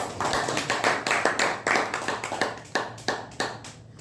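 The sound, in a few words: audience applause for a speaker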